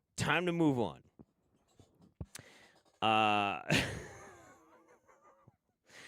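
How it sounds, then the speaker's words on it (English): Heavy breathing right up against a microphone during an online show, with loud breathy exhales and sigh-like gasps in bursts, separated by near-silent pauses and small clicks. "Stop breathing so close to your mic."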